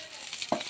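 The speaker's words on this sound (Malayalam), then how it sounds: "ഇത് നമ്മളെ ബ്രിഞ്ചൽ ഫ്രൈ" Brinjal frying in a pan gives a soft sizzle, broken near the end by a single short scrape of a stir.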